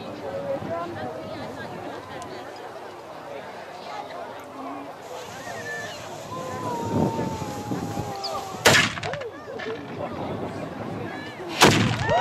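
A cannon fires twice at a medieval festival, two sharp, booming blasts a few seconds apart. Outdoor crowd chatter and wind noise run underneath them.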